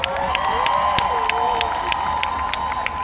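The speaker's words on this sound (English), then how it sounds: "Let's give a big round of applause for all these advocates." A large crowd at a rally cheers and applauds in a continuous roar with scattered whoops and shouts, fairly loud throughout, while a faint voice runs underneath.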